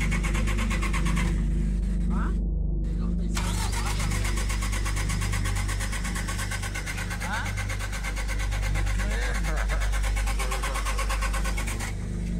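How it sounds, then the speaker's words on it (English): A bus engine cranks and turns over with a loud, steady mechanical rumble that runs throughout, with brief pauses and restarts, while people talk over it. "Clearly, someone or something is trying to start the bus."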